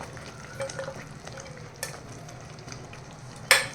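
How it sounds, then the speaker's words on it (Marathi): A continuous sizzle of masala frying in a pan before fresh cashews go in for a cashew curry, with occasional light scrapes and one sharp metallic clink near the end. "मसाला इथे छान फ्राय झालेला आहे"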